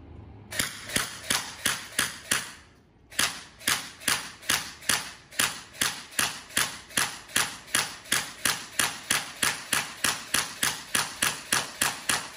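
An airsoft gun fires 6mm plastic BBs at cans, a long rapid series of sharp, evenly spaced snapping shots with a brief pause near the start, close and loud, with no talking.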